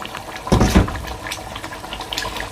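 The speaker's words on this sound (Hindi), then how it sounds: "ये 2 आलू का पेस्ट है। अभी इस टाइम ये भी मैं इसमें डाल दूँगा" Paste of two boiled potatoes thinned with water poured into an onion-tomato paste in oil for Lahori white chickpea curry, a wet splashing plop followed by a steady bubbling sizzle.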